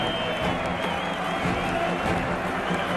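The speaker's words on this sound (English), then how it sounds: "he'll get a huge applause, not just from the Australian players, but from the crowd as he leaves the ground" A large cricket crowd at the WACA ground applauds and cheers Mitchell Johnson as he leaves the field, producing a continuous loud wash of clapping and crowd noise.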